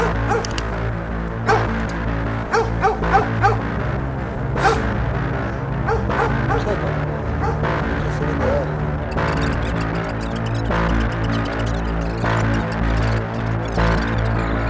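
A pack of about eight dogs barks and yips repeatedly on an off-road mountain trail, loud and close over a steady vehicle engine hum, with whimpers among the barks.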